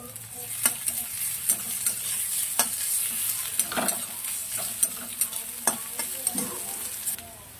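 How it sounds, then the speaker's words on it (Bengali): Onion browning in a pan with several garlic cloves added to fry, a continuous sizzle broken by regular sharp scrapes and taps of a spoon stirring roughly every second, close and clear with no talking. "এবার দিয়ে দেবো বেশ কয়েক কোয়া রসুন, এটাও একটু ভেজে নেব।"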